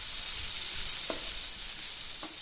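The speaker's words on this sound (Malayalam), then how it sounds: "സോസ് ഇട്ട് മിക്സ് ചെയ്യുന്ന സമയത്ത് സ്റ്റൗ ഹൈ ഫ്ലെയിമിലാണ് ഇട്ടിട്ടുള്ളത്" Chicken wrap filling tossed with sauce in a pan over high flame, a steady bright sizzle with two soft spoon scrapes against the pan, close and continuous.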